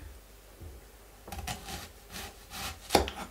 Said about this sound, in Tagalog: At maghihiwa na tayo ng sibuyas